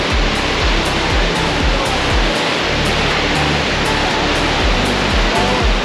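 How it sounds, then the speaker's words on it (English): A waterfall in Oregon's Cascade Mountains roars close by as a steady, loud, full-bodied rush of falling water, with occasional low thumps of wind buffeting underneath. "seeing some pretty sweet waterfalls like the one that I'm standing right next to"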